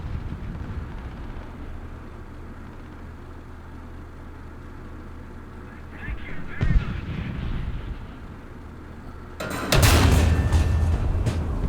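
An American M55 self-propelled howitzer in War Thunder fires a round, with a heavy booming blast, then a loud roaring burst later over a constant rumbling background.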